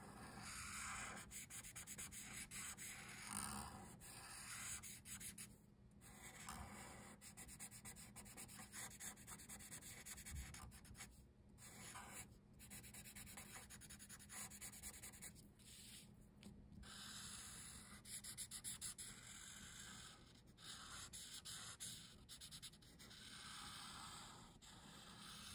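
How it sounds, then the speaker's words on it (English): A black Sharpie marker is drawn over paper to thicken an outline, making a steady, quiet scratchy rubbing of continuous strokes close up, with no talking. "make your outline a little thicker just around the outside"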